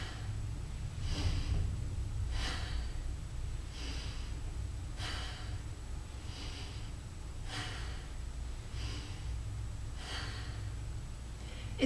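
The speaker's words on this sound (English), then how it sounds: "Let's do 5 quick breaths like that." About five quick, forceful breaths through the nose during a yoga stretching routine, each a short airy burst spaced roughly evenly over several seconds, close to the mic with no talking.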